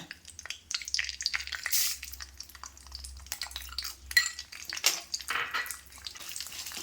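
Mustard seeds crackle in a pan while a utensil stirs and scrapes against the metal, giving irregular clattering bursts at moderate volume with no talk.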